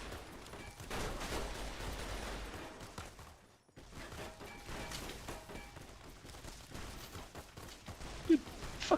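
Dense, rapid gunfire crackles continuously in the Fallout: New Vegas Lonesome Road expansion, with mechanical clatter mixed in, briefly dropping out before resuming as a chaotic barrage.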